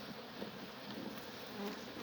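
Honeybees in a hive during a winter inspection give a steady, close, moderately loud buzzing drone with no voices.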